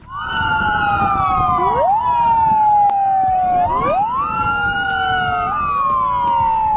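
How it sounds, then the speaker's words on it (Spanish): Police car sirens wailing in tribute as patrol vehicles circle the Legislative Palace at night, several overlapping loud sweeping tones rising and falling continuously, close and alone without talk. "móviles policiales hicieron sonar sus sirenas mientras rodeaban el Palacio Legislativo en forma de homenaje a Larrañaga"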